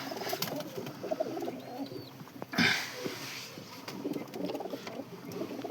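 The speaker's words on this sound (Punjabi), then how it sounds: "ਇੱਧਰ ਵੀ ਆ ਬਾਈ ਆਪਣੇ ਕਬੂਤਰ" Soft pigeon coos and bird calls in a busy coop, with rustling, shuffling and faint background chatter; a brief louder burst midway.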